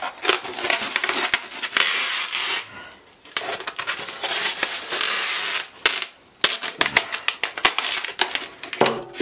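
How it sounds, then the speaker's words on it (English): Packing tape is pulled and pressed onto a cardboard box being readied to ship a snake by FedEx, giving bursts of ripping, crackling tape noise broken by short pauses, close and fairly loud. "Let's just tape it right like this."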